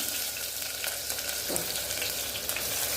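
Onion fries in ghee with cardamom and cloves, a steady, fairly soft sizzle close by with a single brief scrape from stirring partway through, and nobody speaking.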